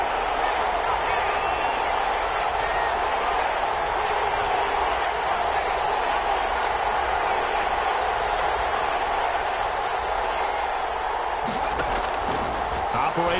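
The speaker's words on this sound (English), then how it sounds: "Crowd getting in it a bit already." Stadium crowd noise in a PS4 football video game, a steady dense roar with a brief burst of sharper sound near the end, running under commentary.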